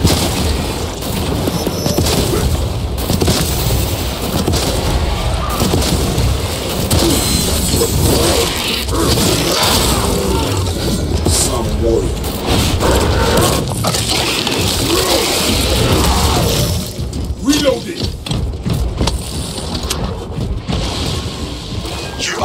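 Loud, sustained booms and crashing blasts from a detonated charge in the Space Marine 2 video game, dense explosive rumble filling the scene with a sharp burst near the end.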